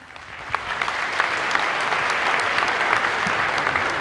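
An audience gives sustained applause for a Bolivian music group at the opening of an international teachers' gathering, dense clapping continuing steadily throughout with no voices over it.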